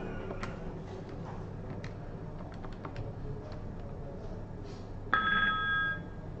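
Telephone ringing tone on a FreeSwitch VoIP phone system demo, a single electronic ring burst arriving near the end after scattered keyboard clicks and soft taps over steady background hum.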